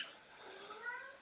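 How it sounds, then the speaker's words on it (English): A house cat lets out a drawn-out, wavering meow while wrestling another cat at dawn indoors, close and fairly quiet, rising and falling across the whole moment. "The minute I get on video, he starts wrestling the other cat."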